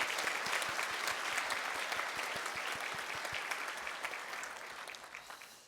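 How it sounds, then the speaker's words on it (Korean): A church congregation applauds during a Sunday worship service, with dense clapping that starts fairly strong and gradually thins and fades toward the end. "큰 격려의 박수 한번 보내주세요."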